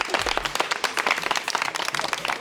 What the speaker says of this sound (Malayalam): നല്ലൊരു കയ്യടി കൊടുക്കുക.